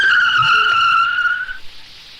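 A car skids hard in a near accident, its tires letting out one loud, close, steady squeal that holds for about a second and a half before fading away.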